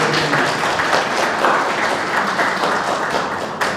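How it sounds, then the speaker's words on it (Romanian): Applause from event attendees honoring team members at a company anniversary launch, a loud continuous crowd clapping that holds steady throughout with no break. "vă rog să ne oferiți o rând de aplauze colegilor"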